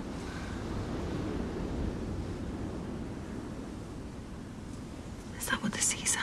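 A person softly imitates the sea, breathing a long, even whooshing hiss like surf for several seconds, close and quiet, before brief faint sounds at the end.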